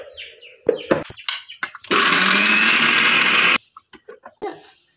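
A kitchen mixer grinds coconut, green chili, cumin, ginger and chana dal into paste in one loud, steady whirring burst of under two seconds. Scattered clatter and clicks of handling come before and after it.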